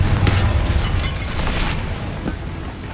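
A Confringo blasting-curse explosion in Hogwarts Legacy, set in a tomb: a loud, broad rumbling burst with deep low-end body that fades over about three seconds.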